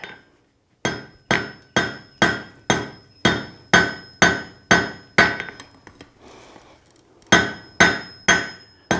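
Hammer blows ring out on hot steel as a meat hook is forge welded on an anvil, a steady rhythm of about a dozen loud, close metallic strikes with a brief gap before a final few.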